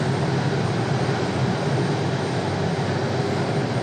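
An arriving airliner from Houston at Raleigh Durham airport gives a steady, loud broadband engine roar that holds evenly without a break.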